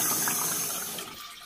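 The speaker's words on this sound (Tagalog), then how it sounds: "Biglang nagbukas mag-isa yung gripo sa banyo nila Maya." Water runs steadily from a bathroom tap, a broad rushing hiss that gradually eases and thins toward the end, with no voices.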